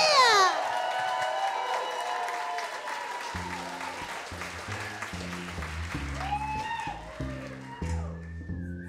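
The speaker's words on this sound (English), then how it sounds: "Start some clapping, some whooping and cheering for Polly Sear." Audience at a burlesque cabaret show clapping and whooping for a contortionist, dense applause with scattered cheers throughout, while a thumping music track comes in underneath partway through.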